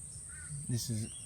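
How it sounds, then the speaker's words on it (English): Butcherbirds give two short harsh calls close by, one right after the other, over a steady high insect-like hiss. "the Butcher Birds have joined us"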